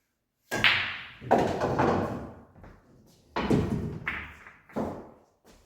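In a pool shot, the cue ball strikes an object ball with sharp close knocks, each followed by a rolling, rumbling decay, and several separate impacts spread across the shot.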